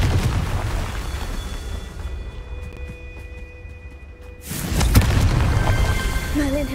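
Confringo fire spell blasts in Hogwarts Legacy, with a deep booming burst that swells and crackles, then a second heavy impact rumbling loudly in the game's soundscape.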